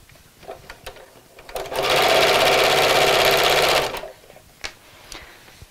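A sewing machine runs a steady burst of stitching on a Christmas gift sack, loud and close for about two seconds in the middle, with quiet handling sounds and faint clicks before and after.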